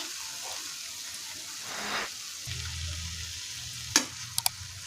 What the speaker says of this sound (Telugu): రైస్ వేసుకొని రైస్ అంతా కలిసే వరకు మిక్స్ చేసుకోవాలి